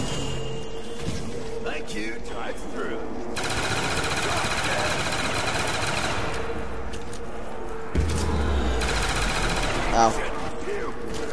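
Sustained automatic gunfire in Black Ops Zombies on the Moon map, dense rapid shots running for many seconds alongside game effects, with a voice briefly exclaiming over it.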